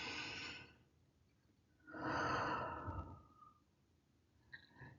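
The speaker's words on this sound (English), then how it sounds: "let's take a nice deep breath in" Slow, deep inhalations during a guided meditation in a church, a soft breathy rush at the start followed by a longer, fuller breath, close and quiet with no talking.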